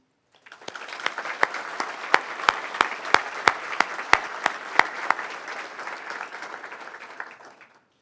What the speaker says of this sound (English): Please join me now in the first of many moments for applause